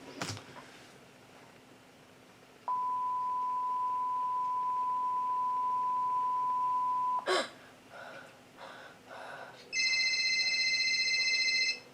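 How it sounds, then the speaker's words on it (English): A phone rings in a horror video game: a long steady electronic tone, then a sharp jolt, then a brighter repeating ring tone, heard alone with no talk. "phone's ringing"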